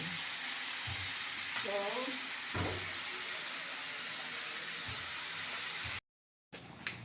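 Chicken sautéing in a hot pan at the start of a Filipino apritada: a close, continuous sizzle and hiss, with a voice briefly speaking over it.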